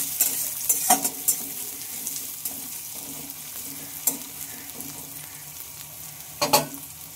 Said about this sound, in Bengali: পেঁয়াজটাকে বেশ একটু লাল লাল করে ভেজে নেব